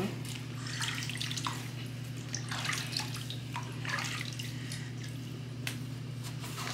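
Water pours and trickles steadily to wet a baby's hair, a soft continuous splashing with a low hum beneath, no talk over it.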